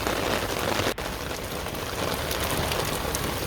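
Sudden heavy downpour pelting a rooftop garden with potted plants, a dense, steady hiss of rain close by, with a brief dip near the start before the roar resumes without letup.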